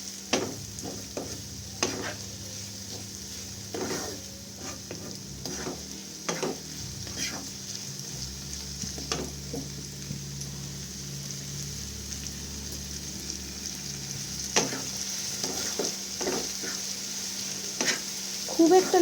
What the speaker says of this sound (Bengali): সবজিটা এরকম ভাজা ভাজা হয়ে এলে